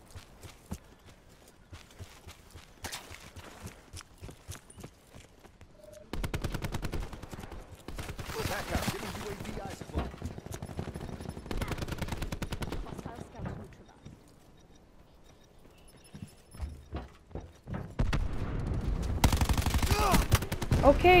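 Call of Duty Black Ops 4 gunfire: bursts of rapid automatic shots and a few scattered single cracks come and go, swelling to sustained heavy fire near the end, heard at a moderate distance.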